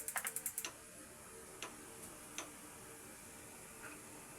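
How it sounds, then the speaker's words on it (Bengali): A kitchen gas stove's igniter snaps out a quick run of about six sharp clicks, followed by a few isolated ticks in an otherwise quiet room. "প্রথমে আমি চুলাটাকে জ্বালিয়ে নিলাম।"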